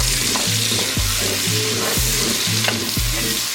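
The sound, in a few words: sweating onion, garlic and jalapeno in rendered bacon fat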